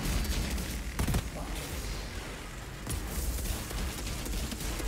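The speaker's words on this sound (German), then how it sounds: "Oh, und alles explodiert," Dense, continuous video game combat in Outriders: rapid gunfire bursts and booming explosions pile up at full loudness throughout, with sharp blasts standing out near the start and again around the middle.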